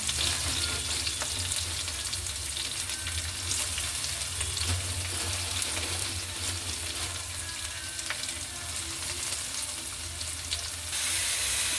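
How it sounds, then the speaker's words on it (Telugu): Sliced onions fry in a hot pan after green chillies, giving a steady, dense sizzle with occasional stirring scrapes throughout, close and continuous with no talking. "ఇప్పుడు ఉల్లిపాయలు వేస్తున్నాను"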